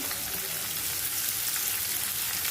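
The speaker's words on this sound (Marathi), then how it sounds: "व्यवस्थित कांदा फक्त नरम होईपर्यंत भाजून घ्यायचा आहे" Chopped onion, crushed curry leaves and garlic frying in a pan for a Maharashtrian shevala (dragon stalk yam) vegetable dish, giving a steady, close, even sizzle with no talking.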